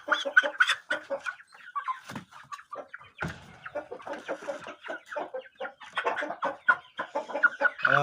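Shamo rooster clucking in a pen, a run of close, quick clucks and short calls in irregular bursts throughout, fairly quiet, with no talk over it.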